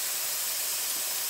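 Beef pot roast sears in hot oil in a skillet, giving a steady, close, bright hiss of sizzling with no breaks and no talking.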